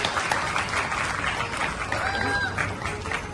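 Audience clapping at a senior citizens' community gathering of the Shrimali Soni society in Bhavnagar, a steady dense patter of many hands throughout with voices murmuring underneath.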